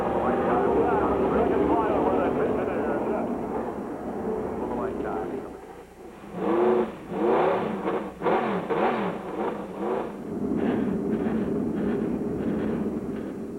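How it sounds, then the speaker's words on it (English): Indy Racing League race car engines fire up at Charlotte Motor Speedway: a broad crowd and commentary roar gives way to several loud, rising engine bursts and revs, with announcer talk underneath. "At Charlotte Motor Speedway, they have fired the engines."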